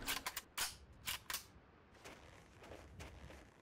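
Gunshots in the video game Delta Force Xtreme 2, a quick cluster of sharp cracks in the opening moments followed by fainter scattered pops, with no talking.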